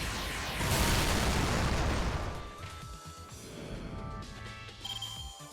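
An explosion effect in the Fate/Grand Order game: a loud, broad burst and rumbling blast swelling in the first two seconds, then decaying into a fainter shimmering tail with small pops.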